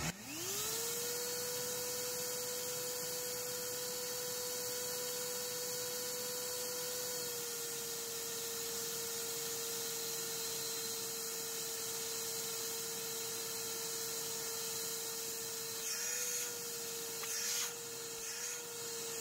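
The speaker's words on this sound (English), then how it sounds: "We're gonna go ahead and start with the wet dry vac." A wet/dry shop vac powered through a 3000W pure sine wave inverter spins up in the first second and then holds a steady, loud motor whine and airflow roar, with the pitch dipping slightly midway and a few faint clatters near the end.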